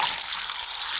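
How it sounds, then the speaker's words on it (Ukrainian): Steady, close sizzling of meat frying in hot oil in a cauldron-style pot, a dense crackling hiss with no voices. "обсмажую м'ясо"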